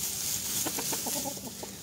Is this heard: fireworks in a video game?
no